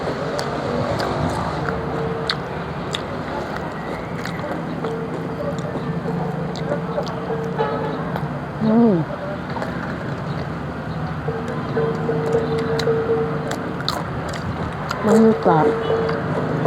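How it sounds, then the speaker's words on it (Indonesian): Below a rented room above a busy market street, motorbikes and cars rumble continuously with people's voices mixed in, while a person talks close by over the traffic. "Suara motor, suara mobil,"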